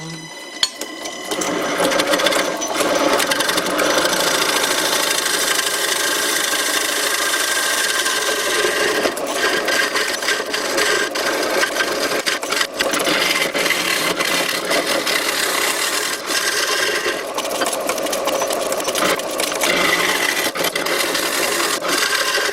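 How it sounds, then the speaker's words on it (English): A homemade bowl gouge cuts hard end grain on a wood lathe, giving a loud, continuous rasping scrape with steady chatter and shaking, sustained without pause and with no voices. "This end grain is pretty hard to cut. Lots of shaking"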